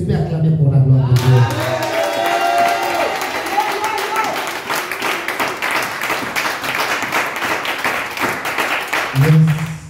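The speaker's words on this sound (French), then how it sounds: "Est-ce que tu peux acclamer pour la gloire de Dieu?" A church congregation bursts into sustained applause and cheering, dense clapping filling most of the stretch, loud and close, with a voice speaking at the start and again at the end.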